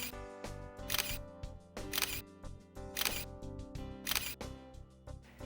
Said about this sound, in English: In this mode, the camera will shoot multiple pictures per second.